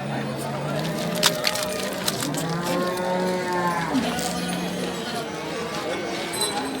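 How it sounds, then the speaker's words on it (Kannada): A native cow at the Ranebennur cattle market gives one long, drawn-out moo close by, amid crowd chatter, clinking and the general bustle of the weekly Sunday livestock trade. "ಅದು ನಾಟಿ ಹಸು"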